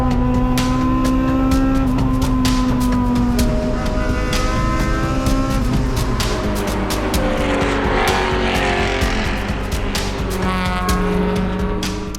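Race cars roar through a qualifying session with a field of over 50 touring cars, engines loud and continuous with shifting revs and some tire squeal as cars pass close by, no talk.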